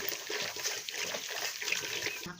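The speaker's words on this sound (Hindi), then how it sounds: "अब डालते हैं पानी और इसके बाद इसे गूंथते हैं।" Water poured into flour for kneading dough in a rural Indian village kitchen, heard up close as a continuous soft trickle and splatter. It is fairly quiet, with no voices.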